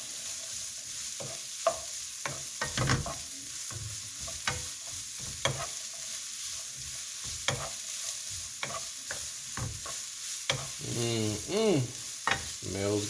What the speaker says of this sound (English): Now, if you want, you can include some jalapenos, diced up jalapeno peppers in there. Let's give that a stir.